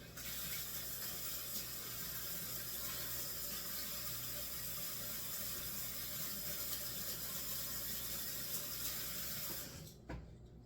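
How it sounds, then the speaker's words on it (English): A kitchen tap runs steadily over raw pork chops being rinsed in a sink, a constant close hiss of flowing water that cuts off near the end. "I like to rinse my meat off."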